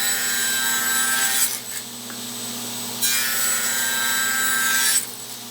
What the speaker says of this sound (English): it's just a matter of cutting a number of strips